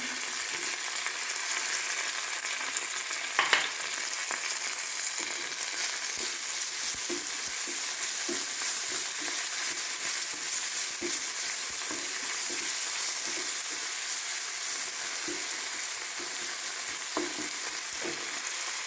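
Tomatoes frying in oil with ginger, garlic, green chili and onion, a steady close sizzle that runs throughout with occasional soft scrapes and clicks of stirring.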